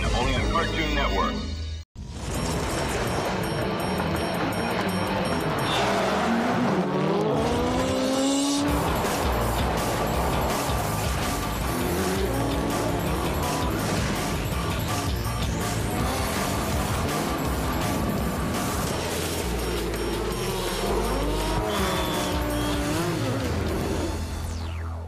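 Rally cars racing in the Xbox game Rallisport Challenge 2, with engines roaring and tires squealing in skids, a brief break near the start, then continuous loud engine and screech sounds under a narrator's voice.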